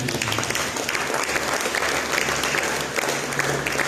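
A church congregation claps steadily and densely for about four seconds, a full, even wash of applause with no pause.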